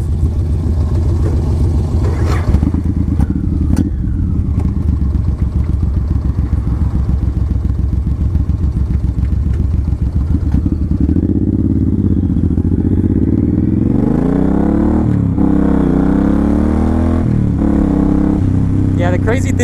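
A Suzuki M109R Boulevard 1800 V-twin cruiser rides along with a loud, deep continuous engine drone and wind rush, pitch sweeping up and down through gear changes near the end, while a rider talks over it.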